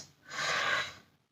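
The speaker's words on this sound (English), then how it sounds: "so breathing out" A single long exhale during an exercise routine: a soft, breathy rush of air that swells for about half a second and fades, heard up close with no talking over it.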